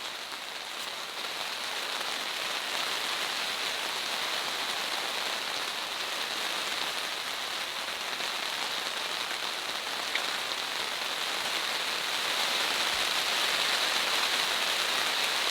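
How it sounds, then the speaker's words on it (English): Heavy rain drums steadily on a car, a dense constant hiss with scattered louder drops, no voices. "The microphone is picking up the rain."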